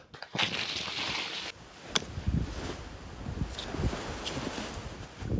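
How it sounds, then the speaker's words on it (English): Gusty wind buffets the microphone in bursts, mixed with rustling and a few crunching steps, fairly faint overall. "It is windy and blustery and cold."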